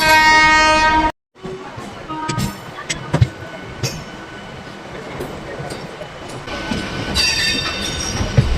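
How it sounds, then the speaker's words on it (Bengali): Medinipur local and Kharagpur local trains of the Eastern Railway running side by side, with a steady rumble of wheels on rails, squealing and a horn sounding near, heard from on board with faint voices in the background. "এই হচ্ছে আমাদের খড়গপুর লোকাল আর ওই যে আসছে মেদিনীপুর লোকাল"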